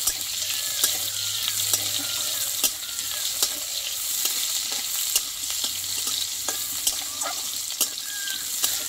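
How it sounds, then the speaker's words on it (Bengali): Chopped onion and garlic frying in a pan for a eggplant and drumstick-leaf dish, a steady sizzle with occasional scraping stirs and clicks of a utensil, close and continuous with no talking. "রসুন আর পেঁয়াজটা আমি একটু ভালো করে ভেজে নেব।"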